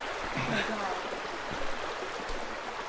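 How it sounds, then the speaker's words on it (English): Dodd Creek in the North Georgia woods on the trail to Raven Cliff Falls, flowing as a steady broadband rush of stream water that runs through the whole moment, with faint voices and footsteps of hikers under it. "we're crossing Dodd Creek for the umpteenth time"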